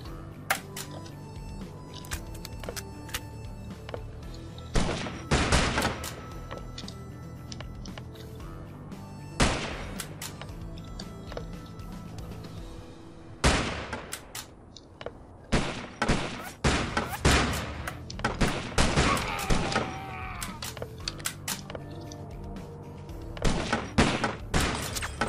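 Video game gunfire: bursts of shots and sharp impacts come in clusters over a steady background of game sound, with quieter gaps between the volleys.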